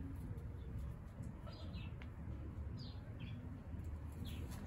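Baby birds in a nest give faint, scattered high chirps, a handful of thin calls over a steady low background hum.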